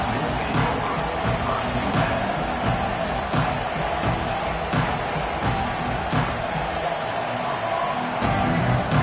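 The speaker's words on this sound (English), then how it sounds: "This crowd ready to make its presence known." A dense, steady roar from a large football stadium crowd in Washington, sustained and loud across the whole stretch, with swelling noise and no clear breaks.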